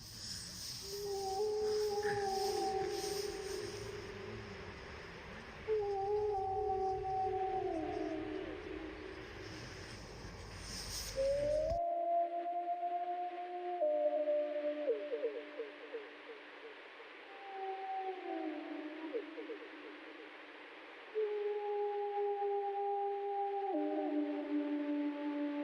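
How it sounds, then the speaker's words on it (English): A wolf pack in Yellowstone joins in a chorus howl, long sustained tonal howls rising and falling in overlapping layers, with higher pup voices chiming in, distant and open-sounding over about twenty-five seconds. "This is a big chorus howl. You can hear the puppies come in."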